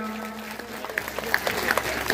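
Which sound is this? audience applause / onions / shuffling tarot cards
audience applause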